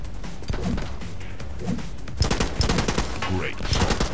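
Rapid bursts of gunfire in the video game The Club crack and thud close by in irregular volleys, with an overlapping second round of shots partway through.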